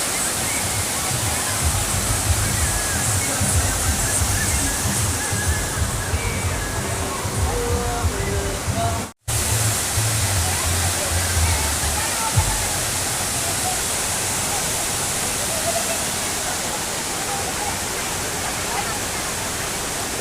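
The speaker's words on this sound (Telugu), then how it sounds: "చాలా అంటే చాలా బాగుంది ఫ్రెండ్స్ ఇక్కడ అంతా జలపాతాలు." Roadside waterfalls roar in a steady, broad, loud rush of falling water that fills the whole clip, with a brief cut partway through.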